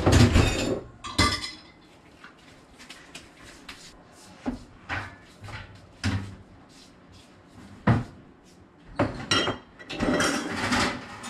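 Dishes and pots being handled while washing up at a kitchen sink: intermittent clinks, knocks and clattering bumps at irregular intervals, close and moderately loud, with quiet gaps between.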